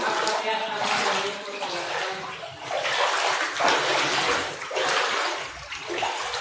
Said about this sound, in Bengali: রুমের বাইরে এরকম পানি, রুমের ভিতরে আরো বেশি।